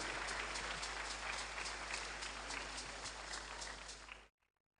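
A crowd at a Ghanaian presidential launch event for free tertiary education for persons with disabilities gives sustained applause, a dense even wash of clapping that cuts off abruptly near the end.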